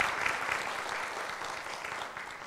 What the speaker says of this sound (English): just want to give a big round of applause and thanks to all those who are serving